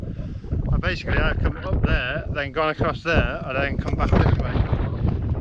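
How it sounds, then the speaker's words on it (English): Strong wind buffets the microphone with a constant low rumble on a path up Moel Hebog while someone talks over it. "excuse the wind, it's very windy now"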